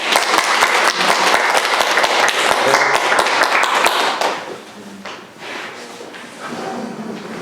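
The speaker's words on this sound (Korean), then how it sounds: "큰 박수로 환영해 주시기 바랍니다." An audience welcomes a speaker to a lecture on the national food cluster with loud, dense clapping that fades away after about four seconds, leaving quieter room noise and a few faint knocks.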